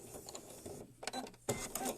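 Sewing machine back stitching on a Japanese knot bag, short stop-start bursts of whirring needle motion with brief pauses and clicks between them, close and fairly quiet.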